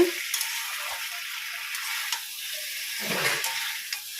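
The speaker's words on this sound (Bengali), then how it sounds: "এটা জাস্ট তেলের মধ্যে ভাজা ভাজা করে আদা বাটা জিরে বাটা লঙ্কার গুঁড়ো এসব দিয়ে কষাচ্ছি" Ginger paste, cumin paste and chili powder frying in oil in a home kitchen, a soft continuous sizzle with occasional stirring scrapes and light clicks of a utensil against the pan.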